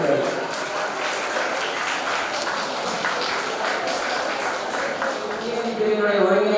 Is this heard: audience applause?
yes